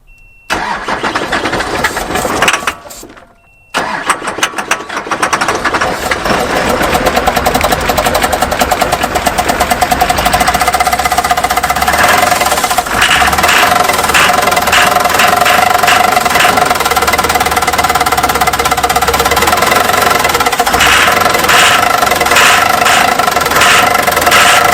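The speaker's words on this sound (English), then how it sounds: "after a full day of working on this poor old Humvee, we did get it running" An old Humvee engine cranks, catches and starts, then runs loud and rough with uneven knocking and a ragged idle, close up and alone.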